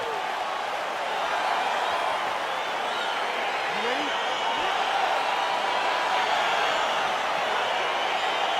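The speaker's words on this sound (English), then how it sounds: "crowd getting excited as this fight gets underway" Steady, dense crowd roar fills an EA Sports UFC 4 arena as a fight gets underway, a continuous wash of cheering and murmur with no distinct breaks.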